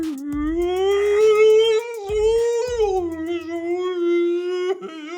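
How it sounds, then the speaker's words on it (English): A long, wavering whale call rises and falls in pitch for about five seconds, loud and close, with low rumbling pulses beneath it and no talking. "It's like a whale sound."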